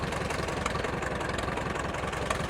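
A 1953 Allis Chalmers WD45 tractor engine runs steadily nearby, a dense, rough, continuous chugging rumble with a constant loud drone and no speech.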